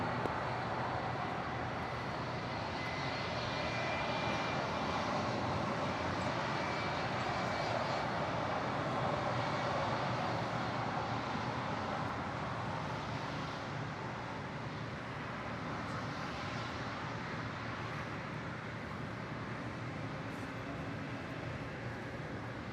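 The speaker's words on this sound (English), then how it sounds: "That is United 1093 coming in from Denver on a 757-300." A United Boeing 757-300 airliner arriving at LAX from Denver makes a steady, broad jet roar that holds at an even level throughout, heard from a distance and without pauses.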